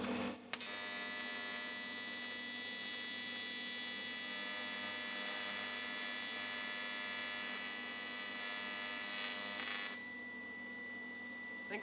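A welder tacks intercooler piping with a loud, steady electric buzz that runs close and unbroken for nearly ten seconds before cutting off, leaving a quiet hum.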